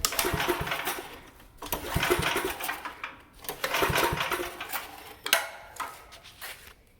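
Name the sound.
garden tractor engine running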